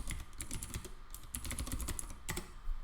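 Rapid typing on a computer keyboard, with keys clicking in quick irregular bursts and short pauses between them, close and clear with no voices.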